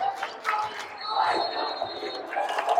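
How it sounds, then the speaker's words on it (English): A crowd at a boys' varsity high school basketball game against the Holliston Panthers roars and cheers as people rise to their feet, a sustained loud wash of voices with a steady high whistle-like tone running through the middle. "Crowd rising to their feet."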